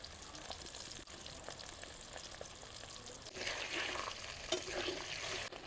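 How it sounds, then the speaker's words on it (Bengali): Singi fish fries in oil in a pan, a soft steady sizzle with occasional stirring and scraping that grows louder and brighter partway through as the pieces are turned. "মাছটা উল্টা পাল্টা করে ভালো করে ভাজা হয়ে গেছে"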